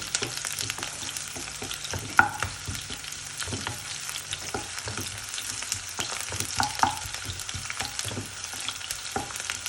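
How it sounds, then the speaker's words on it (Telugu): Onions sizzle and fry in a pan for a prawn biryani, giving a steady close crackle with occasional stirring scrapes and spatters throughout, and no voices. "కొద్దిగా ఉల్లిపాయలు వేస్తున్నానండి"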